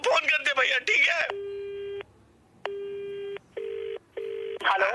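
A phone call starts with quick voices, then long repeated electronic ringback tones broken by short gaps, and a voice returns at the very end.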